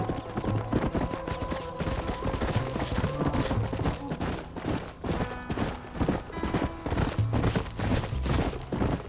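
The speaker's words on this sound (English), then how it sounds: "My horse can't keep up!" Steady, rapid hoofbeats of a galloping horse in Red Dead Redemption run throughout, loud and close, with occasional sharp bursts like distant gunfire mixed in.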